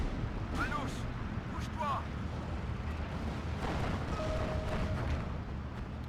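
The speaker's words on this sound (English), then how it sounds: "Larger caliber howitzer rounds coming down in on our position" Large-caliber howitzer shells land in the Steel Division 2 war game, giving a continuous low rumble of distant impacts and bursts, with muffled voices and brief tonal chatter mixed in.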